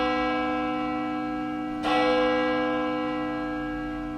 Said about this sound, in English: I was instructed to ring one whole pull. That's two notes of the bell.